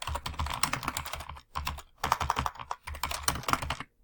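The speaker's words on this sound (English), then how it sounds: "you'll type in Summer Cooking Classes" Rapid, close typing on a computer keyboard while a header is entered in a spreadsheet, clicking in dense bursts with brief pauses between them, no voices.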